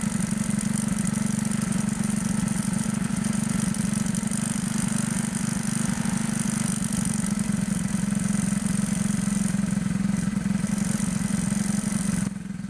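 A motorcycle engine idles steadily at its lowest RPM while the carburetor air screw is being adjusted, a loud, even, continuous rumble with no talk over it.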